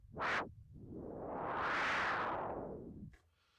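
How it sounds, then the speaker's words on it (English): A synthesized noise burst, run through tube distortion, swells up and brightens as a filter cutoff is swept open with a MIDI controller's modulation wheel, then closes and darkens again, lasting a few seconds before stopping abruptly. "I'm using the modulation wheel on my MIDI controller to change the cutoff frequency of the noise"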